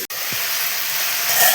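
Mixed vegetables for a Birbhum-style vegetarian tok fry in hot oil with a loud, dense, continuous sizzle up close. A brief clank sounds at the very start and a soft stirring scrape follows.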